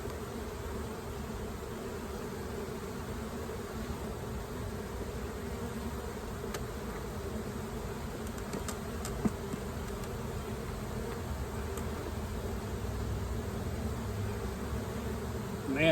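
Honeybees buzz from an opened hive with a honey super during an inspection: a dense, steady, droning hum carries on throughout, with a few faint clicks and knocks.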